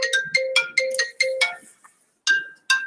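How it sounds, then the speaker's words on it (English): Incoming-call phone ringtone plays a quick, bright electronic melody of repeated short note bursts, close and clear, pausing briefly before starting its pattern again with no talking over it. "Oh, hold on. I've got a phone call."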